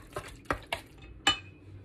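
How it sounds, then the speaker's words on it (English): A spoon stirs allspice into a sweet potato dump cake mix in a bowl, making four quiet, sharp scrapes and clinks spaced irregularly over a couple of seconds. "I'm going to stir those all in."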